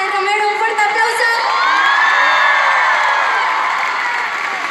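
A concert crowd at an arena show in Alicante cheers, whoops and applauds the introduction of the band's pianist, a loud, sustained wall of shrill cheering with no break throughout.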